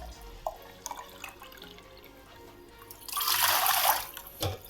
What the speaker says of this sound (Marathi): आता मी सात तांबे पाणी घेणार आहे मापूनच